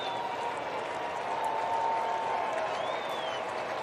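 Crowd at a Rockies versus Cardinals baseball game applauding and rising to their feet, a sustained roar of clapping and cheering that swells slightly in the middle, with a faint whistle over it.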